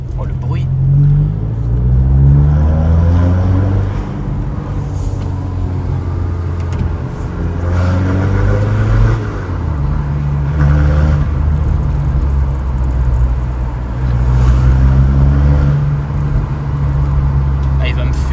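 A Maserati engine in the racing game Project Gotham Racing 4, revving and rising and falling through gear changes, loud and steady, while someone talks over it in French.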